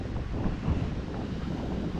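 Strong wind at a beach resort buffets the microphone as a steady, loud low roar that rushes on without a break, with no one speaking.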